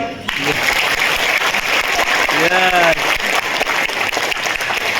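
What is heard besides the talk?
audience applause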